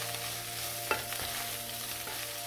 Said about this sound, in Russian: Все, грибы поджарились